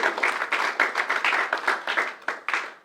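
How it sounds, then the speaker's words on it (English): A small crowd at a magic lounge applauds after a trick, distinct individual claps in a quick, uneven patter, close and moderately loud, lasting nearly three seconds. "Applause is yours."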